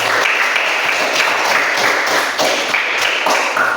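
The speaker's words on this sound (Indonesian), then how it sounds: "Ya, tepuk tangan untuk semua." A group claps together during a lesson on artificial intelligence ethics, giving a dense, steady patter of applause that holds evenly for a few seconds, with no talking over it.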